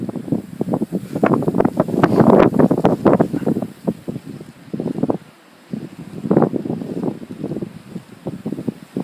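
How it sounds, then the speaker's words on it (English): Strong gusting wind roars across the microphone during a heavy snow blizzard, rising and falling in loud, buffeting surges with a brief lull near the middle. "Sorry about the wind, guys."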